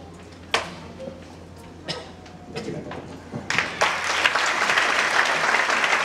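A church congregation starts with a few scattered claps and a stray cough, then swells into full, sustained applause that grows louder and stays dense through the end.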